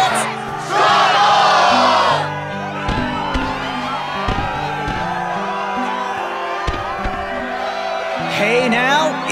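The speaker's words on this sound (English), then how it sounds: "the crowd is fired up" A fired-up crowd in Kingdom Hearts II roars and whoops with loud battle cries, a sustained cheer over game music with layered shouting voices, swelling at the start and end.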